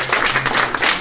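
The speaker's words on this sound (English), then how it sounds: "You're right to applaud that." A short burst of people clapping during a live tabletop role-playing session, dense, close and steady for about a second.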